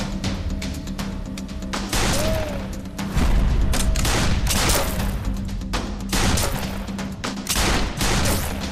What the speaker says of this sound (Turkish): Bir asker sandıkların arasındaki adamı vurup düşürdü.